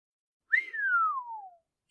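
A single descending whistle voiced for the character Crowley in a multi-voice audiobook reading of Good Omens. The clear pitch slides downward for about a second against silence.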